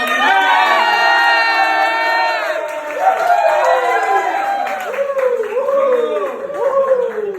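A concert crowd at MAYA Chiang Mai cheers loudly, with many voices shouting and whooping together in a sustained, near roar and only faint hints of clapping.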